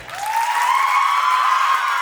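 Applause from a wedding sangeet contest audience, a steady crowd wash lasting the full two seconds, with a sustained rising whistle-like tone riding above it.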